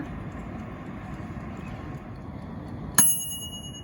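A kitchen oven timer goes off with a single sharp, ringing bell-like chime at the end of baking cheese bread, cutting through steady low background hum and then decaying.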